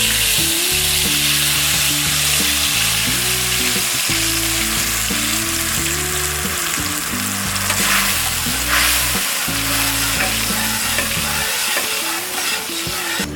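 Loud, dense sizzle of tamarind pulp hitting hot oil tempered with curry leaves and asafoetida, steady and close, with a melodic music bed running underneath throughout.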